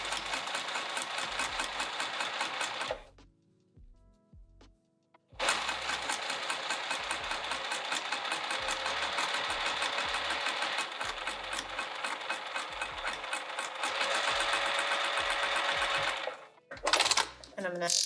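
A sewing machine stitches a bag in long, fast continuous runs, stopping briefly for a few seconds in between with small clicks and handling noises, then resuming at full speed close up.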